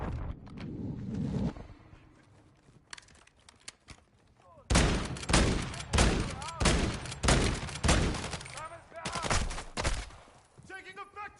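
Gunfire from the Call of Duty DMZ video game: loud, rapid repeated bursts of shots fill the second half after a quieter start, with voices calling out over the firing.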